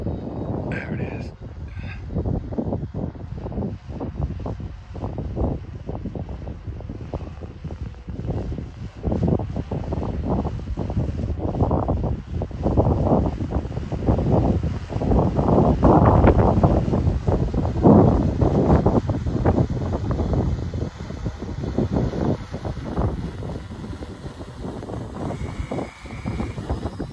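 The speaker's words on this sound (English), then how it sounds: "Fighting the wind a little bit." Gusty wind buffets the microphone outdoors during a drone mapping flight, a rough, fluctuating rumble that swells in the middle, with people talking over it at times.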